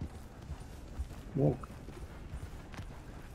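Horse hooves clip-clop in Red Dead Redemption 2, steady and fairly soft in the background, with a brief spoken word in the middle and a voiced sound rising over the hoofbeats.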